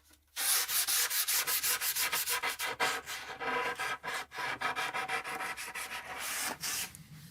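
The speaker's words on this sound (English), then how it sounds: "Just a light sanding is all we're looking to do." Light hand sanding of a wood veneer stair-tread shelf piece with 220 grit sandpaper, a steady rasping rub in quick back-and-forth strokes, close and continuous with brief pauses, no talking.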